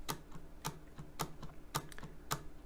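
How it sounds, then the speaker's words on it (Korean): A computer keyboard's space bar is pressed repeatedly while playing a simple jump game, giving five crisp, evenly spaced clacks about half a second apart, close up, with softer key taps in between. "얘는 그냥 스페이스 누르면 이렇게 점프하는 겁니다."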